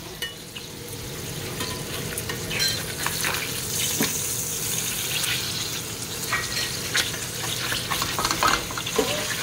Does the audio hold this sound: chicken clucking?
no